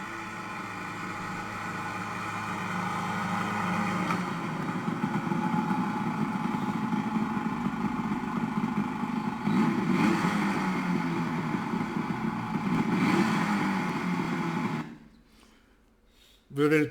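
A snowmobile engine hauling a sled behind it drones steadily and loud for about fifteen seconds before dropping away abruptly. A voice speaks over the engine noise.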